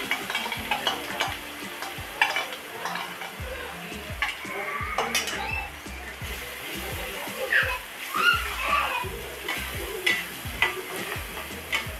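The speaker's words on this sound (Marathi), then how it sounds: "चांगलं परतून घेऊ." Ground masala paste with ginger-garlic paste and red chilli powder being sautéed in oil in a pan for matar paneer, a soft sizzle with repeated scraping stirs of the utensil against the pan.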